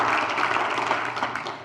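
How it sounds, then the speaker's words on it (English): An audience applauds the board of directors at a ten-year anniversary celebration: a dense, continuous wash of many hands clapping at even loudness, heard close and without any talk. "let's give our board of directors a big round of applause"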